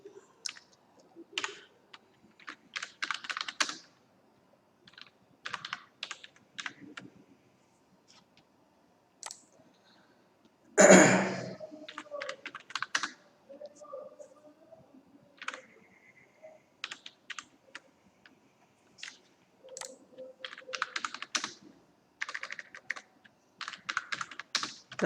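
Typing on a computer keyboard to enter names and roll numbers into Microsoft Word 2007: irregular bursts of quick, crisp key clicks separated by short pauses, with one louder clunk near the middle.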